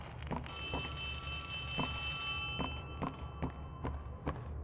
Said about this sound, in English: Oh, it's getting louder. Oh, there's the phone.